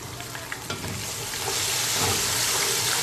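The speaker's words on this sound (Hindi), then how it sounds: "लहसुन अदरक का पेस्ट डालूँगी" Garlic ginger paste hits hot oil with browned onions, and a loud, dense sizzle swells and hisses steadily up close while being stirred. There is no talk.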